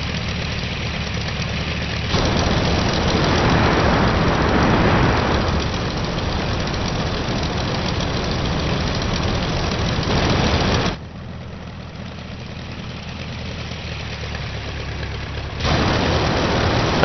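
A WWI aircraft engine in the flight game Rise of Flight idles at low throttle, a steady rumbling drone with a loose knocking texture that shifts in level a few times, loud and continuous with no voices.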